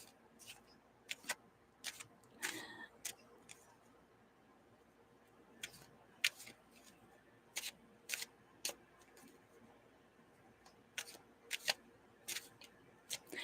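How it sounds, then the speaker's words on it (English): Tarot cards are shuffled in a quiet room, giving soft, scattered clicks and riffling snaps that come in irregular bursts with pauses between them. "This is shuffling cards."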